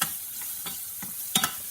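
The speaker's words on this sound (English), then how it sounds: "we've got the onion going in our vegetable oil and rice" Chopped onion sautéing in vegetable oil with rice, a constant light sizzle broken by a few soft spoon stirs and a sharper clack near the end, no talk.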